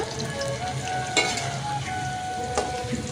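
Potato pieces frying in hot oil in a pan for chicken curry give a steady close-up sizzle, with two sharp scraping clinks as they are stirred.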